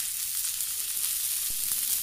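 Sausages sizzle and fry steadily in a pan, a close, even hiss with a few small pops and a light scrape near the end.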